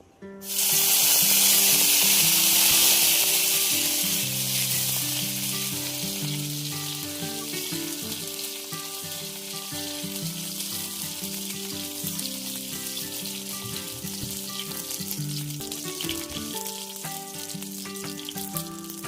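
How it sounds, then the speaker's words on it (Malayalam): Cashews and raisins fry in oil for beef biryani. A loud hissing burst opens, then settles into a steady, busy sizzle that carries on throughout. "ചെറിയൊരു ഗോൾഡൻ കളറായിട്ട് വന്നതിന് ശേഷം നമുക്ക് ഇതിൻ്റെ അകത്ത് ഉണക്കമന്തിരിയും കൂടെ ആഡ് ചെയ്ത് കൊടുക്കാം"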